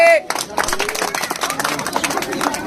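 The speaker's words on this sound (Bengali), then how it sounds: "দর্শক হাততালি" Audience applause at a prize-giving event, a dense wash of clapping from a crowd running steadily for a few seconds with voices mixed in.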